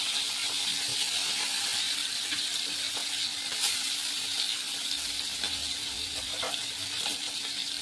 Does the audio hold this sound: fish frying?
yes